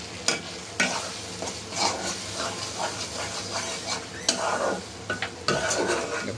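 Lottya, or Bombay duck, being stir-fried dry in a pan on a rainy day, with a steady close sizzle and hiss broken by sharp scrapes and clinks of a spatula against the pan.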